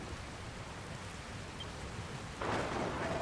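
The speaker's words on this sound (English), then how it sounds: "Looks like there's another storm rolling in." A downpour with thunder starts abruptly in the video game Dragon Quest Builders 2, a steady hiss of rain rising out of low ambience near the end and filling the scene.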